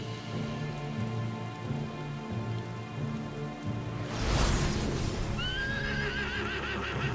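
A horse in a video game set in a barren wasteland whinnies loudly near the end, over steady rain and clip-clopping hooves.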